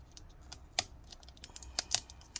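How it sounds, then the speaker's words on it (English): A blade cuts and peels adhesive while an HP 15t-as100 laptop is taken apart, giving sharp, irregular snips and clicks, close and fairly quiet, spread across the moment. "we're gonna go work our way over this way and continue cutting the adhesive"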